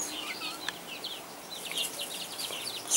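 Soft clucking and chirping of laying hens nearby in a yard, a few quiet calls over faint outdoor background.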